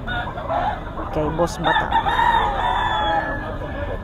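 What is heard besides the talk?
rooster stags crowing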